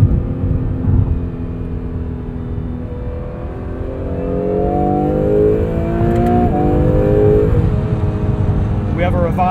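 A 2022 Acura NSX Type S hybrid twin-turbo engine accelerates hard in track mode, its rising harmonic engine note swelling steadily inside the cabin while a driver talks over it.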